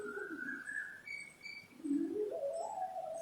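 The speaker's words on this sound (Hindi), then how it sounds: "पक्षियों की आवाज आपके कान से टकरा रही है।" Soft cooing calls from a pigeon or dove drift up and down in pitch, faint and alone against a quiet outdoor background.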